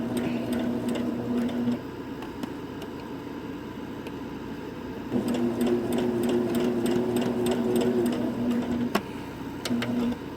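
A sewing machine stitches a curved quilt seam, its motor humming steadily with rapid ticking needle strikes, running in two bursts with a short pause between, close and clear with no talking.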